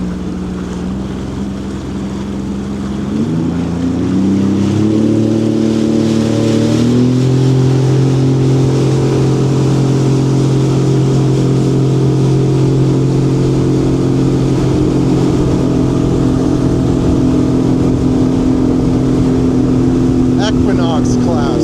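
A Sea-Doo motorboat engine drones steadily close by on open water, its pitch stepping up as it accelerates, then holding a loud, sustained hum with wind and water noise around it.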